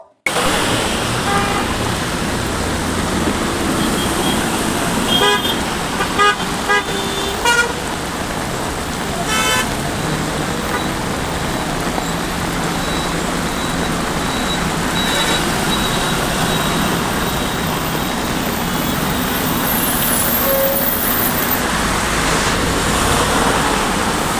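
Heavy rain hisses over a stalled traffic jam on a road in Belagavi, with repeated car and truck horns tooting at intervals over a constant roar of rain and idling vehicles.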